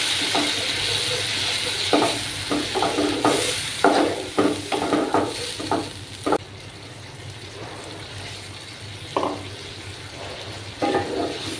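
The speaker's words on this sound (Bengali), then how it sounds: "এবার আমি পরিমাণ মতো জল দিয়ে দেব" Water goes into a Bengali-style boal fish curry in a hot pan, making bursts of splashing and hissing that come in uneven pulses, then settle into a quieter simmer with occasional stirring.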